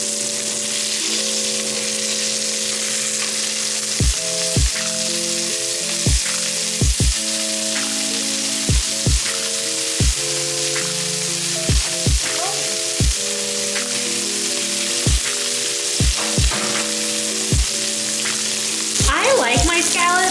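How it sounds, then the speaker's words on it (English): Dry sea scallops sear in a hot pan with a steady, loud sizzle and crackle, punctuated by a series of sharp clicks and taps over about twenty seconds, with no talking. "these are gonna sear for about 90 seconds a side"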